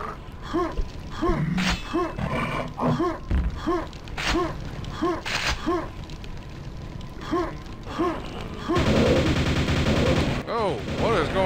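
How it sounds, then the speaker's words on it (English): Rapid nail gun fire in Quake, a long run of repeated metallic shots in a quick, steady cadence, loud and close, with a dense burst of noise near the end. "Oh, what is going on with the nail gun?"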